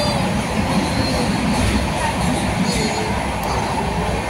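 Inside a moving Madgaon–Panvel special passenger train travelling from Chiplun toward Mumbai, a loud, steady rumble of wheels and carriage noise runs continuously, with no clear speech.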